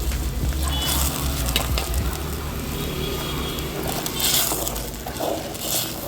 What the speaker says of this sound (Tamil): இப்போ ரவையை போட்டுடலாம்.